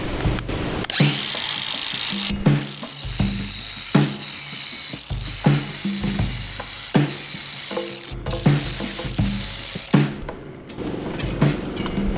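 Grinders running in short repeated bursts, a whirring mechanical rattle that starts and stops in a steady rhythm, loud and close.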